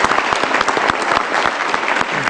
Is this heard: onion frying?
no